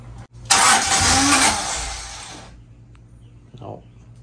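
A Honda B18C1 engine cranks in a loud burst, turning over for a couple of seconds without catching, then falls quiet apart from a brief later sound and background hum.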